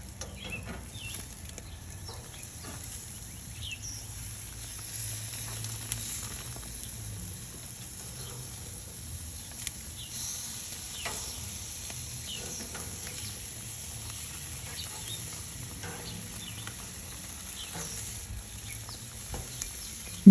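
Lime-marinated pork ribs frying in a pan as they are turned, a soft, steady sizzle running quietly throughout with small crackles and occasional faint stirring noises.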